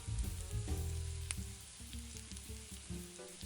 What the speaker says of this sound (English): Now add the 2 pints of cherry tomatoes to the pan.